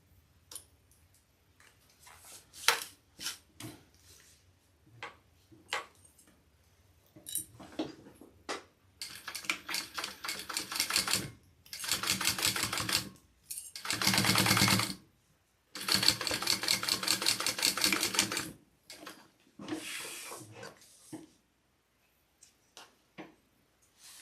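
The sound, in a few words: sewing machine top stitching a bag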